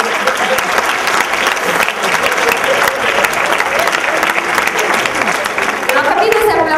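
A television studio audience on an Italian magazine show applauds steadily and loudly for several seconds, a dense continuous clapping with no break.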